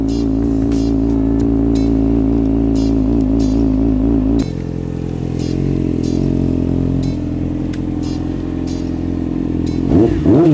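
A Yamaha R6 motorcycle engine idles while warming up, a loud, close, steady rumble with a wobbling pitch, a drop in level partway through and a brief rev near the end.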